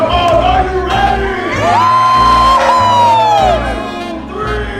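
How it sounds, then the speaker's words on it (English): A crowd at an event in Hawaii screams and whoops together with raised hands, loud and sustained, rising in waves over a low background hum. "We're gonna raise our hands high into the sky, and there's a very loud scream."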